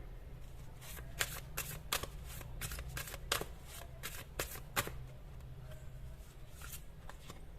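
Tarot cards are shuffled and drawn close up, giving a run of crisp riffling flutters and sharp card snaps over a low steady hum, fading to softer handling toward the end.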